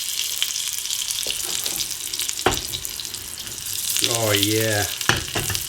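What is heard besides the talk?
butter frying in pan for pancakes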